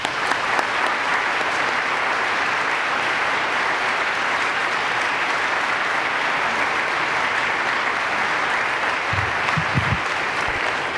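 Lecture audience applauding to welcome travel writer Rick Steves, a loud, dense, sustained clapping from a large crowd that continues steadily throughout.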